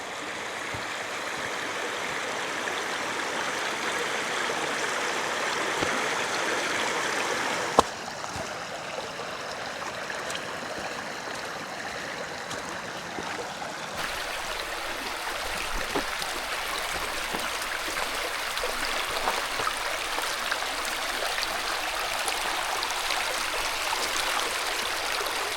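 A creek below Auxier Ridge in Red River Gorge, Kentucky, rushes and babbles steadily from close by, a continuous broadband wash of flowing water with a brief bump partway through and no talk.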